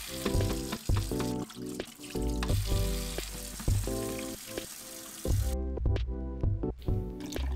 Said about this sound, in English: Wash the tank with clean water until it comes out as clear as possible.